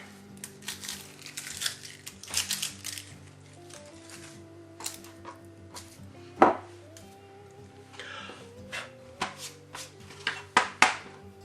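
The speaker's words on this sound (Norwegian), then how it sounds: "Da begynner vi med å skjære opp løken" A knife cuts half an onion on a cutting board in a home kitchen, giving quiet, irregular chopping taps and crunches near the listener, with a steady background hum.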